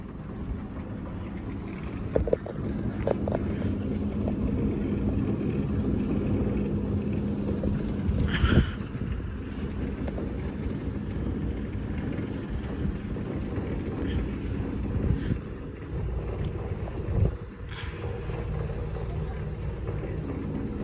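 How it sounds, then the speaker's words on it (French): A WinWinD wind turbine turns at a wind farm in Bignan, making a loud, constant low rumble and whoosh mixed with wind buffeting the microphone. A few knocks and thuds are scattered through it. "la WinWind, ça fait énormément de bruit quand ça tourne"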